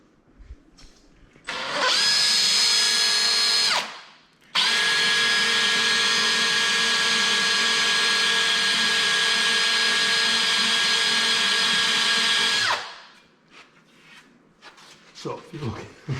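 A power drill with a 3/16 bit whines loudly in a short burst while boring into a flywheel for balancing, pauses, then runs steadily for about eight seconds before spinning down, with faint clatter afterward.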